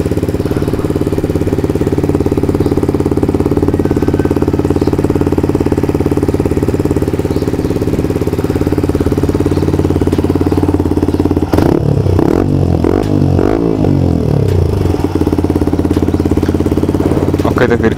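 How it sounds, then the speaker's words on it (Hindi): A Yamaha MT15 BS6 motorcycle, fitted with a new catalytic converter and just serviced, idles loudly and close with a steady ticking thrum, joined by clattering handling noises partway through. "कुछ ऐसी साउंड कर रही है बाइक,"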